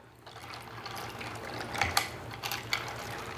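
Raw pasta, frozen meatballs, marinara sauce and water are stirred together in a casserole dish, producing close, wet scraping and clattering with a few sharper knocks, no talking.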